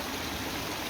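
A seasonal rainwater runoff stream, swollen after rain, rushes in a dense, continuous broadband wash, loud and close with no breaks or voices.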